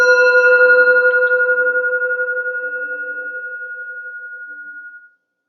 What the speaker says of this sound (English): we take nice deep breaths whenever we hear the sound of the bell